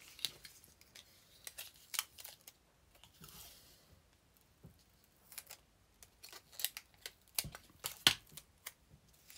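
Small scissors snip during a European-style fan craft project, producing quiet, irregular clicks and cuts that come close together in a calm room.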